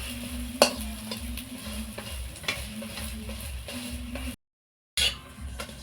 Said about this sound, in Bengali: একদিক ভাজা হয়ে গেছে, এবার আমি আর একদিক এইভাবে ঘুরিয়ে দেব